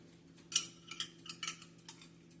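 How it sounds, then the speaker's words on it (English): A spoon scrapes and clinks against a glass jar while scooping out Jamaican green seasoning, a few light taps and scrapes spread over a couple of seconds, close and fairly quiet with no talking. "I'm gonna use a spoon to take it out"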